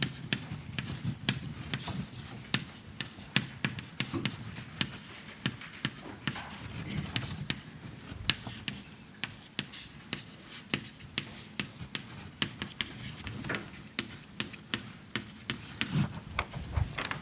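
Chalk or marker tapping and scratching across a board as a lecturer writes out an integral equation, in a steady stream of sharp ticks and strokes with room ambience and no talk.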